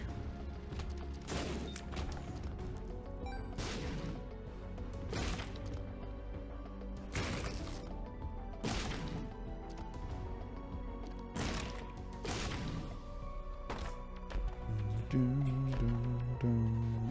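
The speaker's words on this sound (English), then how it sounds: "it's kind of hard to hear the sound effect from Backstabber when it runs parallel with the explosion from Ipecac" Ipecac explosions from The Binding of Isaac: Repentance sound as a steady run of loud, sharp crashing blasts, roughly every second or two, layered over dense game music with no talk.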